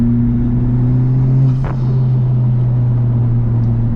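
A tuned 2017 Honda Civic Type-R engine drones loud and steady on a canyon road, a constant in-cabin rumble with sustained engine tones and a brief shift partway through.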